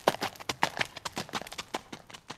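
A recording of horse hooves clip-clopping plays for an animal quiz, with quick, evenly spaced hoofbeats that are fairly close and clear and sound alone.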